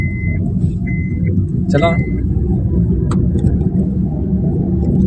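Car engine with the accelerator pressed lightly, a steady low rumble running throughout while a voice speaks over it and brief beeps sound.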